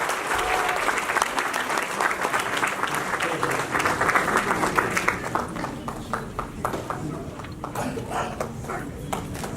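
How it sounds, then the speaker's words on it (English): An audience at a children's annual day program at the Hindu Temple of Atlanta gives a big round of applause. The dense clapping thins out halfway through into scattered, fading claps. "Let's give them a big round of applause"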